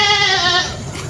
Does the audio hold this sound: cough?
no